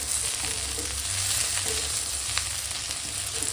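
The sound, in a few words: whole cumin seeds sizzling in hot oil for tempering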